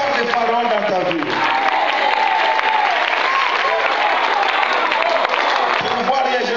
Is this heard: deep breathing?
no